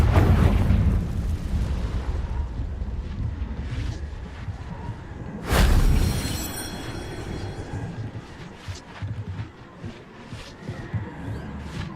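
A Confringo fire-spell blast goes off in the Hogwarts Legacy game, a sudden loud burst partway through over a dense rumbling din of combat effects, followed by scattered pops and crackles.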